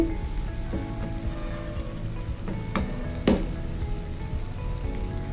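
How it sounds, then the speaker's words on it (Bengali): A pan of taki fish dopiaza with olives and chopped coriander being stirred, giving a constant close crackling sizzle with a few sharp scrape and clink sounds of the spoon against the pan, no voice. "তো ধনিয়া পাতা কুচি দিয়ে একটু নেড়ে চেড়ে দিচ্ছি।"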